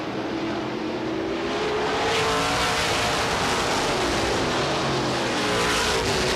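Race cars at Star Speedway thunder down the backstretch in a dense, continuous roar of engines at full throttle, with rising and falling pitch as cars pass.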